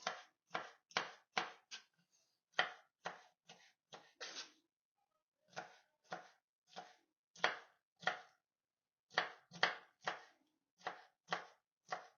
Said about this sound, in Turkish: Şimdi bunları ince ince keselim.